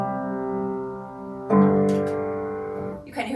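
Piano chord ringing, then a second chord struck while the first still sustains because the pedal is lifted too late, the two blending briefly before the sound thins; a voice begins speaking at the very end.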